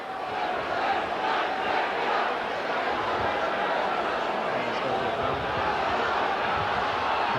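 A rugby league stadium crowd at a Leeds versus Castleford playoff match in 1990 reacts to an injured player with a sustained, dense roar and murmur of many voices, steady throughout and mixed with commentary.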